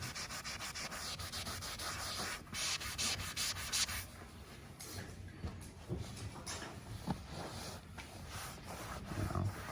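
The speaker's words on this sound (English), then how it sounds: "So just scrub that in pretty good." Vigorous scrubbing of cleaner into old, weathered vinyl boat seats with no UV coating left, a steady close rasping rub running throughout with uneven bursts of harder strokes.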